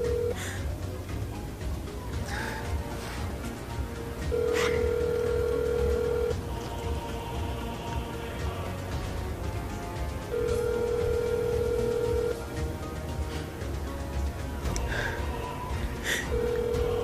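A telephone rings in repeated long steady tones with pauses between them, set against a dense, busy background, and no voices heard.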